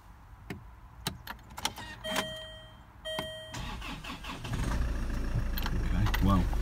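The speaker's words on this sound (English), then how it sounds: "So I'm going to start the engine now and just see if it sounds okay, see if it runs okay." A Land Rover Freelander 2, after a drive belt replacement, is started: clicks and key jangles, then the engine turns over and settles into a steady running hum. Nearby speech is faintly audible.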